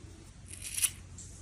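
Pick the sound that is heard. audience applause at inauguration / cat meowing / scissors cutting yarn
scissors cutting yarn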